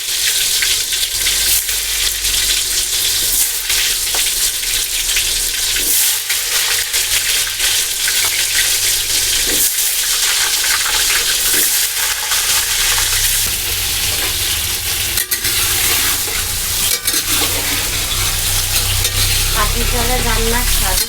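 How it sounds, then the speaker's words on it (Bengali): Potatoes fry in oil over a wood fire outdoors, a loud, continuous, close-up sizzle with crackling and occasional stirring scrapes that holds steady from start to finish without talk. "এই সবার প্রথমে আলু ভাজা হচ্ছে লাল লাল করে"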